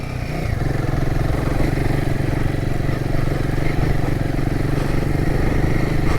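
A Royal Enfield Himalayan 450 motorcycle rides along a road with a steady, loud, mid-pitched engine drone and wind rush, unbroken throughout.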